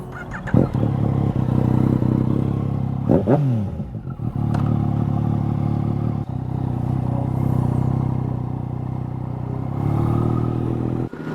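A 2019 Yamaha MT-09 motorcycle engine while riding, a loud close drone with a quick rising rev sweep early on, brief clatter, then a steady engine note that surges again near the end, with no talking.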